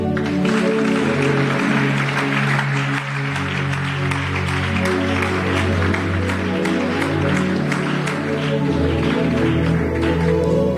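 A church congregation applauding and acclaiming Jesus during a worship service, a loud, sustained wall of clapping and cheering voices over steady music, continuous for the whole stretch.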